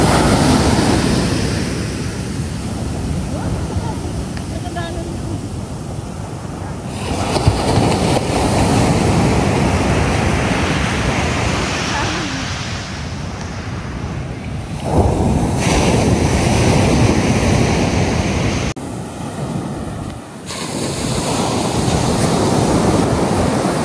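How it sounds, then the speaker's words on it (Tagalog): Continuous roar of ocean surf with waves breaking and washing in, swelling and easing in surges, with some wind buffeting across the recording. "Ang alon."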